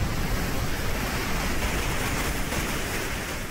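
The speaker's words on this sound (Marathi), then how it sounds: "तर आपण पाहतो येरळा नदीला पूर आलेला आहे" The flooded Yerala river in Sangli, swollen by heavy rain, rushes in a loud, steady roar of turbulent water with a continuous broadband wash and no voices.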